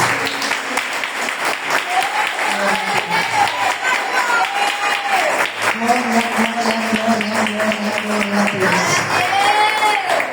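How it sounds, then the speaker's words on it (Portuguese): A church congregation applauding during a Portuguese-language worship service, a loud, dense, steady clapping that fills the whole stretch, with voices rising over it. "Aplauda Jesus."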